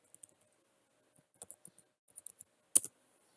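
Typing text on a computer keyboard: sparse, soft key taps in small irregular clusters ending in a sharper click, close up in an otherwise quiet room.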